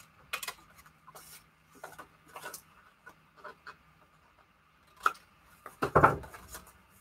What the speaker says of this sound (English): Let me cut these little edges here.